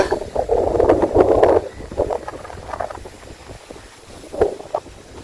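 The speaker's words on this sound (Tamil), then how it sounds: "காத்து வந்து இன்னைக்கு நிறைய அடிச்சிட்டு இருக்கு." Strong wind gusts buffet the microphone on a beach on a stormy day, a loud roaring rush in the first two seconds that eases into lighter buffeting, with another sharp gust near the end.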